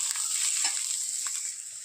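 Vegetables fry in a pan with a steady, bright sizzle and faint stirring scrapes, close by, with no talking.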